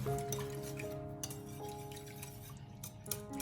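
Sago seeds stirred into coconut milk and fresh cream in a bowl, a quiet, close wet swishing with light clinks of a utensil against the bowl.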